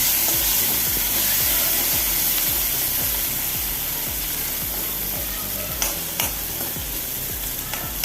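Chopped onion and tomato frying in a pan for cauliflower curry, with a loud steady sizzle, rhythmic scraping of a spoon stirring, and a few sharp clicks near the end.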